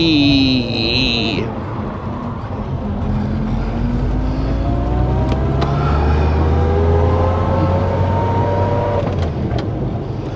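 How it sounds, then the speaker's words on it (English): A car slows into second gear using engine braking and rounds a corner, its engine droning steadily with pitch falling then rising, close and continuous under a brief voice. "Again, down into second gear, use engine braking to help pull you up, and around the corner we go."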